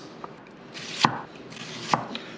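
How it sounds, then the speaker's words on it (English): A knife slices a red onion thinly on a cutting board in a kitchen, giving two distinct sharp chops about a second apart with lighter taps between them, close and clear with no talking. "We got some beautiful red onion here. We're gonna slice this up thin as possible."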